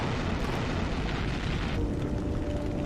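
A missile explodes against a helicopter in Metal Gear Solid 2, a sustained loud, rumbling blast that roars continuously without clear breaks.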